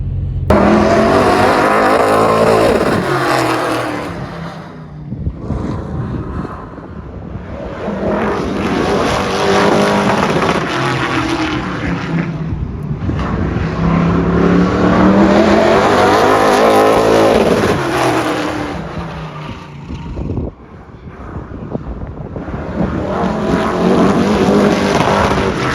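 Loud race car engine roaring continuously as it laps a track, with swells and dips in volume as it passes, no talking over it.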